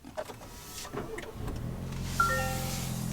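A 2025 Toyota 4Runner Limited started by push button: a short rising starter whirr, then the engine catches about two seconds in and settles into a steady idle drone, close and alone.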